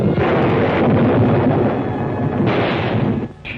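Loud gunfire and blasts from a vintage Frankenstein monster film, a dense continuous roar of shots with no pauses, heavy and booming throughout.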